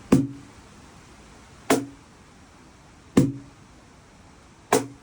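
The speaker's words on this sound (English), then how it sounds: "Let's try just the basic bass to snare with the right hand." Four sharp percussive right-hand strokes on a cajon, alternating bass and snare, evenly spaced about a second and a half apart, each with a low thump and a slapping crack.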